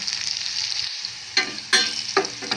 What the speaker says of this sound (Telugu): నూనె కాగిన తర్వాత మనం తాలింపు రెడీ చేస్తుంటాం కదా అవి వేసేసుకోవాలి